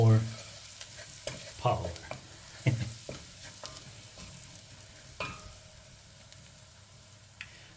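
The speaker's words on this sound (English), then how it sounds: "So you will fry pepper as well" Pepper frying in a pan alongside pork tongue, giving a steady close sizzle broken by repeated stirring scrapes and clacks of a utensil against the pan.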